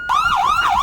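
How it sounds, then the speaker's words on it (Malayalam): A loud, close emergency siren, ambulance or police, wails in two quick rising-and-falling sweeps with no voices over it. "ആംബുലൻസിന്റെ സൗണ്ട് ആയിരുന്നു."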